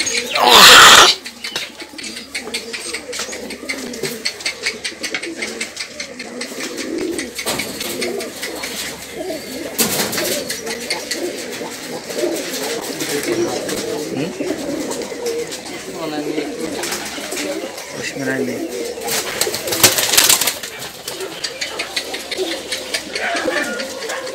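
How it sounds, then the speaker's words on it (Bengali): Pigeons on a village farm of more than 500 birds in Chamta, Baneshwar, cooing steadily through a busy loft, low and continuous, while people talk nearby over the flock. "এই কবুতর আছে না আর কোনো কবুতর আছে ঘরের ভিতর?"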